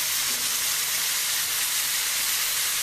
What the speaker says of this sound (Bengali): মাংসগুলো একটু মোটামুটি করে ভেজে নেব